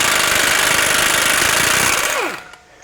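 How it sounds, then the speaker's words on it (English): An impact wrench with a 36mm socket loosening a CV nut on a 2022 Chevy Trail Boss, a loud, close, rapid hammering rattle that runs steadily, then winds down to a stop. "We're going to take a 36mm socket, and we're going to remove this CV nut here."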